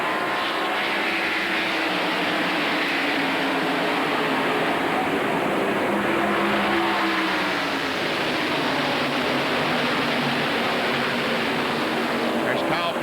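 NASCAR stock cars racing at the 1992 Hooters 500 make a continuous loud engine roar with rising and falling drone as cars pass side by side, with commentators talking over it.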